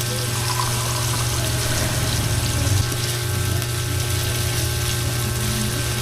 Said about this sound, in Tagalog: Tubig na yan, tubig.